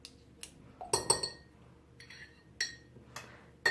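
A metal spoon scraping strained honey against a glass, a few sharp close clinks and light scrapes spaced apart in a quiet kitchen.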